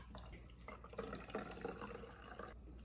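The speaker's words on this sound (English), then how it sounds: "Then take the funnel, pour some water" Water is poured through a funnel, producing a quiet, short splashing and trickling with a few distinct drips, close by and alone.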